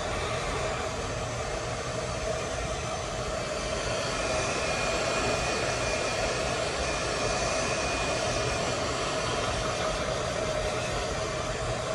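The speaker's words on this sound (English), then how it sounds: "Just going in with my hairdryer." A hair dryer blows steadily on a synthetic wig set with hairspray, a constant whooshing hum, close and unbroken for the whole stretch, no voices.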